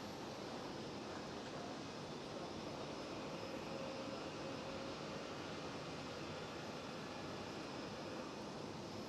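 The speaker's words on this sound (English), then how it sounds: "we do have the Thai Airways A350-900." A Thai Airways Airbus A350-900 at Schiphol Airport produces a steady, distant jet roar like a broad wash of noise, even in level from start to finish, with no one speaking.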